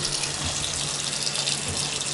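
Water runs from a bathroom tap with strong pressure in an apartment, a steady, close, even hiss that continues without pause and with no voices.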